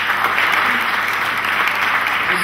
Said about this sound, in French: Je voudrais vous applaudir.